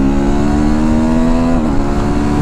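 A TVS Apache RTR 310 motorcycle accelerates hard at close range, its engine note steady and droning, then dipping and climbing again in pitch as it revs.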